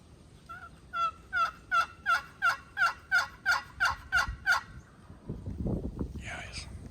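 A wild turkey gobbles in a Wisconsin valley, a rapid series of about eleven loud, evenly spaced gobbling notes with clear repeats, then low rustling and a brief distant bird call to finish.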